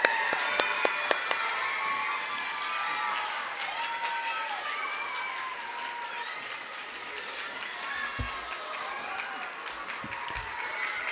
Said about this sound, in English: Can we have a round of applause for my mother, Mrs. Castelletto?